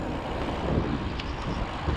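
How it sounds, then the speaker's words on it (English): Wind rumbles and buffets against the microphone in a loud, constant, broadband roar with no talking. "A little bit cool and windy today."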